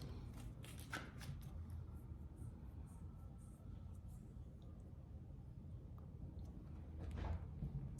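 Tarot cards are shuffled close up, a quiet, steady run of soft riffling and sliding card noise repeated throughout, with a few sharper flicks.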